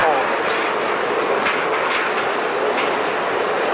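Railway lorries travel in a convoy along the rails, making a loud, continuous rolling rumble with a faint clatter close by.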